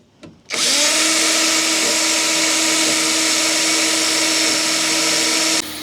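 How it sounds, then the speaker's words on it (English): A power drill spins up and runs continuously for about five seconds, boring holes in the door panels of a BMW E36 being restored as a track car, loud and close with a sharp high whine before stopping. "assistance by my lovely girlfriend Jasmine, I was finally cracking on with drilling some holes in the panels of the doors"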